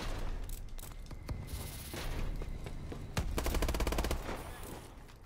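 Gunfire rings out in Call of Duty Advanced Warfare, fairly quiet overall, with scattered single shots early on, then a burst of rapid automatic fire near the end.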